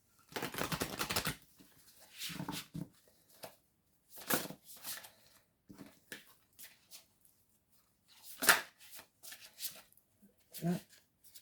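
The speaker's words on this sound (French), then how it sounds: "Je vais brasser." Tarot cards are shuffled by hand in several short, close riffling bursts spread across the span, with quiet pauses and faint talk between them.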